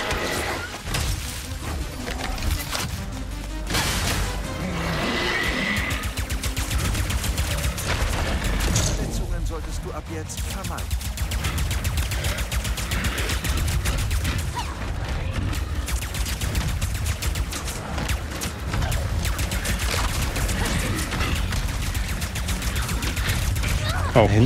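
A weapon in Ratchet & Clank: Rift Apart sprays many projectiles in a sustained, crackling barrage of rapid shots and impacts, with booms and shattering mixed in, while someone talks over the game action.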